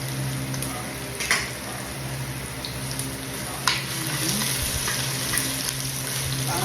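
Pork buto-buto for kaldereta fries in a little oil with a steady, close sizzle, broken by occasional sharp pops and clinks of stirring over about seven seconds.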